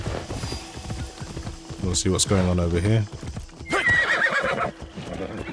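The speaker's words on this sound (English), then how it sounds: "so it's best to probably use my horse" A horse in the video game Assassin's Creed Shadows clip-clops along with hoofbeats and lets out a clear neigh midway. Someone talks over the sounds.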